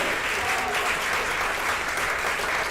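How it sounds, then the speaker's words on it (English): Sustained crowd applause for the left side of an audience at a school storytelling campfire event, a dense steady wash of many hands clapping throughout, fairly loud and even with no pauses. "a huge applause for the left side"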